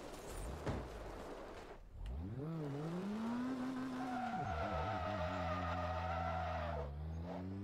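Race car spinning out in Forza Motorsport 2, with tires squealing and skidding in long sliding tones while the engine revs rise and fall, loud and close, then a sustained howl as the car recovers.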